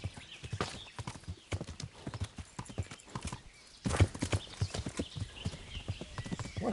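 Horse hooves clip-clop steadily in Kingdom Come: Deliverance, a medieval role-playing game, with an occasional whinny; the footfalls are close and rhythmic, growing louder partway through.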